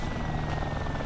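A helicopter flies in the video game DayZ, a steady loud droning rotor roar filling the brief moment with no pauses or talking.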